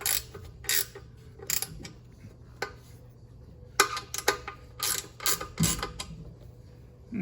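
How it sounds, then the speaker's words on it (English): A half-inch speed wrench snugs a fitting on a pressurized water storage installation, making short bursts of metallic ratcheting clicks and creaks in irregular groups, close up and alone. "I'll just be using a speed wrench. This is a 1/2-inch speed wrench."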